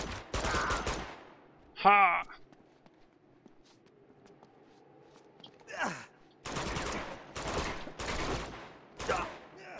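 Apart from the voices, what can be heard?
gunfire from an enemy in the video game Uncharted 2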